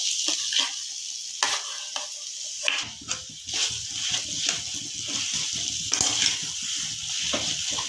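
Spiced mashed potato samosa filling is stirred and mixed in a pan, giving a soft scraping, sizzling churn with irregular spatula strokes and occasional sharper scrapes, close up and unaccompanied by speech.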